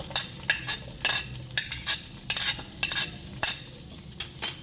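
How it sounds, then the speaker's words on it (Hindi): Roughly chopped onions hit half a cup of hot oil and fry with a steady sizzle, broken by repeated scraping, stirring strokes at a brisk, uneven rhythm, close and moderately loud. "इसमें हम ये प्याज डाल देंगे जो रफली हमने काटती हैं।"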